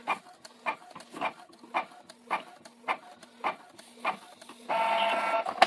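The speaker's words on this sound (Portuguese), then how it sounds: "sai uma página de teste" A Canon G3110 inkjet printer runs a test page, its mechanism thumping in a steady rhythm of short bursts roughly twice a second, close and clear, before shifting into a continuous whirring feed at the end, with no talking.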